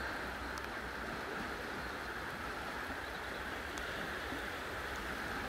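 Stream water runs by in a wood, a constant, even rush of flowing water heard close and steady throughout, with no talk.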